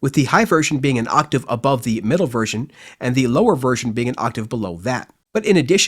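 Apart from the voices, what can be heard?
No distinct noise like a dog, phone or traffic.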